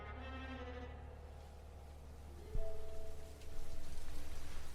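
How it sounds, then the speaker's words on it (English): Steady rain drums on a church roof while wind pushes against the walls, a continuous dense wash with a low rumbling bed and a louder surge partway through, no voices. "the rain steadily drummed against the roof and the wind lashed against the walls of the church"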